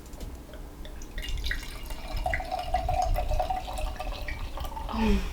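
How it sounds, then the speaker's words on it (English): Wine is poured from the bottle into a glass in a close, steady trickle and gurgle that thickens toward the end, moderately loud, with no talking. "So I'm just gonna pour me some wine."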